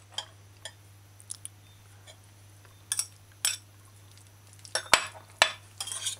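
Mixed vegetables being stirred into an Irish potato salad, scattered close clinks and scrapes of a spoon against a bowl with soft squishy pauses between, heard alone over a low steady hum.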